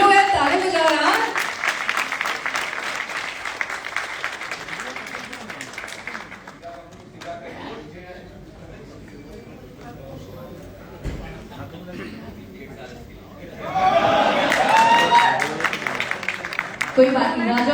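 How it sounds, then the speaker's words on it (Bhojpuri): A crowd claps at a birthday party: loud clapping at the start, which then fades into quieter murmur and talk. A second strong burst of clapping follows near the end. "सभी लोग यार ताली बजा रहे हैं।"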